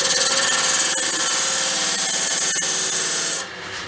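Wood turned on a lathe as a small dovetail is cut into the base of an off-centre goblet: a loud, continuous rasping scrape with a rhythmic pulsing from the spinning piece, dropping off sharply near the end.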